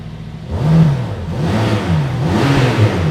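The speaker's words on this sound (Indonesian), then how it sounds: "Coba kita dengerin suara gas-gasannya ya. RPM itu jauh lebih enteng naiknya." Mercedes-AMG GT Black Series with a flat-plane crankshaft revs up loudly and close, with the engine note climbing and falling through several blips and no talking.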